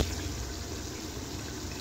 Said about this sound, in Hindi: अब मैं इसके अंदर पानी ऐड कर लूँगी।